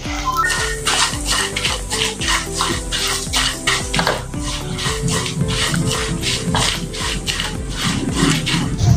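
A spice mix for stuffed eggplant (bharwa baingan) is stirred and roasted in a pan, with steady rhythmic scraping and clinking strokes over continuous background music.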